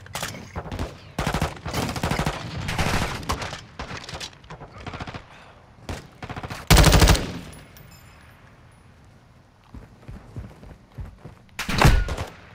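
Gunfire in Modern Warfare 2 Remastered, with rapid automatic bursts and single shots crackling loudly and close, then a heavy thump and a later blast, with no talk.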